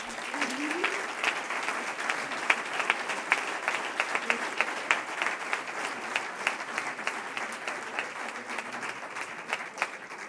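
Audience at the Fuenlabrada Dinámica entrepreneurship awards applauding the winners, a steady round of crisp clapping with individual claps standing out, moderately distant, with a brief voice at the start.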